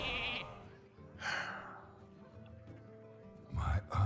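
A short, nasal sheep bleat sounds from the Hearthstone card game as a minion is polymorphed, a couple of quick bleating bursts, with a voice talking briefly around them.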